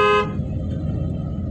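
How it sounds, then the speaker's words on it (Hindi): A car horn gives one short, loud honk while the car is being driven, followed by the steady low rumble of the engine and road. "हॉर्न मारो"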